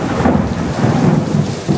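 Loud, close thunder from a lightning strike rumbles deeply through a storm, layered with steady rain, with no voices over it.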